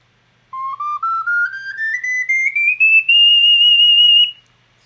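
Ocarina climbing through its high register in a stepwise rising scale, each note pure and whistle-like, growing louder with harder breath and ending on a long sustained top note; no voices.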